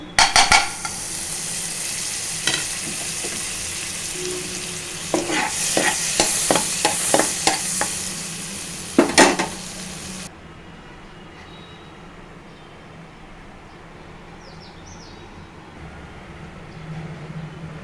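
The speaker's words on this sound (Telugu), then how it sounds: "ఇప్పుడు మళ్ళీ ఒక స్పూను బటర్ వేస్తున్నానండి" Butter heating in a pan for a roasted makhana (fox nut) snack, with a loud close sizzle and rapid rattling stirring strokes that stop after about ten seconds, leaving a faint hiss.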